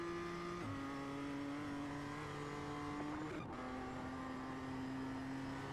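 BMW M2 CS race car in iRacing at the Nürburgring, its engine holding a steady loud drone with a gear shift near the start and a brief dip and surge midway, continuous and close throughout.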